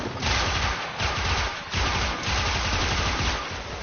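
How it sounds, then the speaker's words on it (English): AK Stiletto gunfire in the video game Warframe, several loud rapid bursts of automatic shots in quick succession, close and dense with brief gaps between volleys. "the AK Stiletto eats through these guys too"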